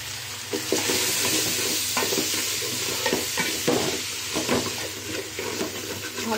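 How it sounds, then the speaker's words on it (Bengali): Washed rice sizzles in a pan with spices while a spoon scrapes and stirs it in irregular strokes, a close, continuous frying hiss with no talking. "ভালো মতো মশলাটা কষানো হয়ে গেলে তারপর আমি চালটাকে দিয়ে ভাজবো।"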